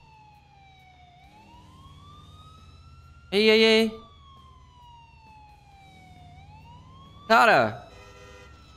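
A GTA 4 ambulance siren wails in two loud bursts with a sweeping, warbling tone, over a steady low engine hum and brief speech.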